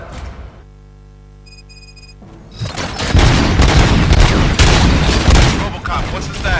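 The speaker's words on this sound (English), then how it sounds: "Gunshots? What's going on?" Gunfire bursts out in the RoboCop: Rogue City video game after a quiet stretch with a low steady hum and a few beeps, turning into a loud, dense, continuous barrage of shots and booms.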